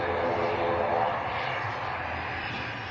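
A steady turboprop roar from an Aer Lingus ATR 72 at Manchester Airport, strongest early on and easing slightly as it continues, with the drone sitting at a fair distance.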